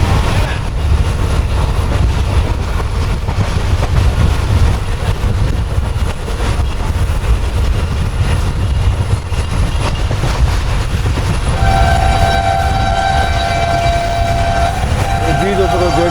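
Tezgam express train running at speed between Nawabshah and Bahawalpur, a loud continuous rumble and clatter of wheels on rails with a long horn blast near the end.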